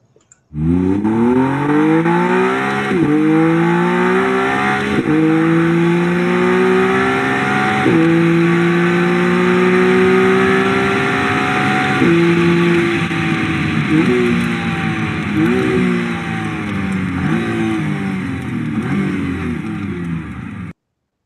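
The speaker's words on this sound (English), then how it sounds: "there's nothing disappointing about the sound of the V6" A McLaren Artura's V6 engine revs hard up through the gears, pitch climbing and dropping with each shift, loud and close, with no talking.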